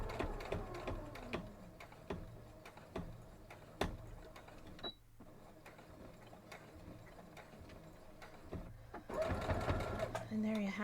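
A sewing machine stitching and backstitching on a Christmas centerpiece basket project, its rapid needle clatter running in short bursts with brief pauses, close up, while a person talks over it.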